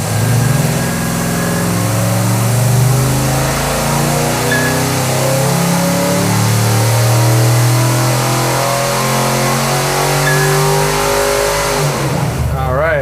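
A big-block hot rod engine on a dyno pulls hard through a long, loud, sustained rev, with the pitch climbing steadily over about twelve seconds before it cuts off abruptly near the end.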